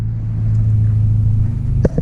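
A car engine idles with a steady, deep exhaust rumble, close and continuous, ending in a brief knock near the end.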